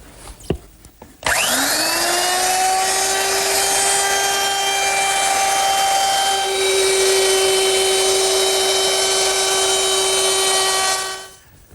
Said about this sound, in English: I'm going to use my router, which is equipped with a 1/4 inch rounding over bit